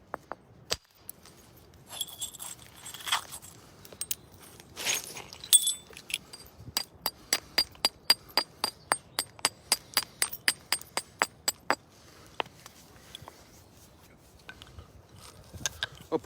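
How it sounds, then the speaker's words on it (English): Flint being knapped with a large hammer stone, sharp stone-on-stone clacks rapid and close, a few scattered at first, then a steady run of evenly spaced strikes with chipping clinks between. "It's mostly done with a big hammer stone, and then as we get a little bit closer to a shape, we'll move over to a big deer antler soft hammer."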